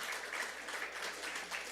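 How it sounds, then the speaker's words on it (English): Steady applause from an audience at a genomics company event, dense and continuous, with no voices over it. "So you could give yourself a round of applause."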